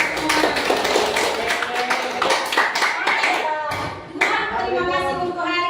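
A classroom of students claps together, a run of quick irregular hand claps near and loud, pausing briefly before resuming, with children's voices mixed in.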